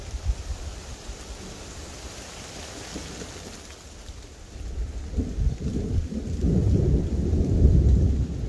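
Heavy rain pouring on a forest during a bushcraft camp, a steady hiss of rain with low rumbling thunder that builds and grows louder over the final seconds, with no talking.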